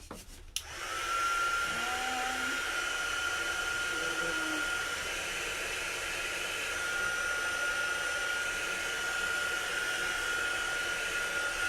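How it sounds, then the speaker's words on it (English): Heat tool blowing hot air over chalk paste on a wreath craft project, a steady, loud whooshing hum that starts abruptly after a brief click and runs continuously to the end. "I'm going to give that a quick shot of heat if I can get my heat tool out of there"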